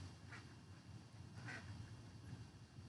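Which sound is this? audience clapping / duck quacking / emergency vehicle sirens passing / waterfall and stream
duck quacking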